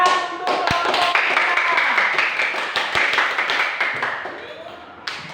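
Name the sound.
clapping for group 3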